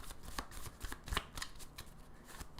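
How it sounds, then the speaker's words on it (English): Tarot cards being shuffled by hand give a quick run of crisp riffling bursts and soft flutters, close and fairly quiet, with no talking. "All right, one more little shuffle here."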